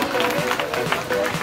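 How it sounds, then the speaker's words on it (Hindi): Loud, dense applause from a crowd at the opening ceremony of a school sports competition, steady clapping across the whole moment with a murmur of voices mixed in. "जोरदार तालियां आप"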